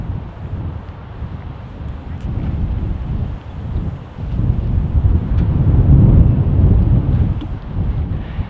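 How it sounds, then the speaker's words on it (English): Strong gusts of wind roar and buffet the microphone in a park, a continuous low rumbling rush that swells louder toward the middle and stays heavy throughout. "There's all kinds of wind."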